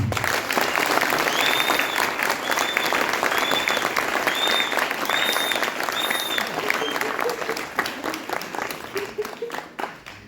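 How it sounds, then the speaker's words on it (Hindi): Theatre audience applauding children after a stage production, sustained dense clapping with some tonal whistle-like sounds over it, gradually thinning toward the end. "इन बच्चों के लिए एक बार फिर से ताली।"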